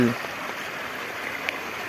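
A river in the Konkan countryside near rice paddies flows with a steady, broad rushing wash that fills the whole clip. A brief voice comes at the very start and a faint splash or knock follows later.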